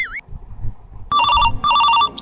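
A telephone rings with two loud electronic bursts, close and clear, after a brief chirp and some low background rustling.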